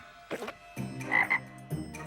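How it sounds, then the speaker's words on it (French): Cartoon frogs croak loudly in a few quick bursts, a comic school-invasion scene with short throaty calls rising and falling over about two seconds. "Faut que les élèves rentrent chez eux, les grenouilles. Elles nous envahissent."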